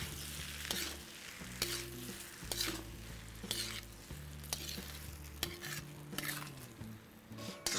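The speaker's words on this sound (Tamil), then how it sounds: "கேஸை ஆஃப் பண்ணிவிட்டு இதை நல்லா கிண்டுறேன்" Hot freshly cooked rice for vangibath is stirred in a pan with the gas turned off, producing close, repeated scraping and clinking strokes of a spoon over a soft sizzle.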